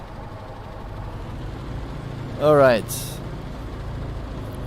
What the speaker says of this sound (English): Engines are idling.